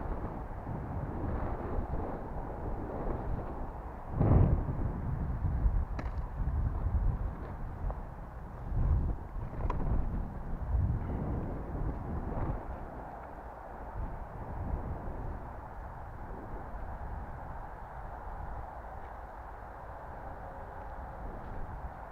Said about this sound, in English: It's too windy today.